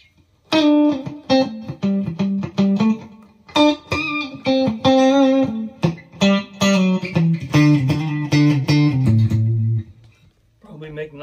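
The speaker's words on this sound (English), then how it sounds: "And here is neck and middle." Clean electric guitar notes and chords from a Donner DST-15 on neck and middle pickups, played in a steady run, bright and bell-like, ringing alone and fading out near the end.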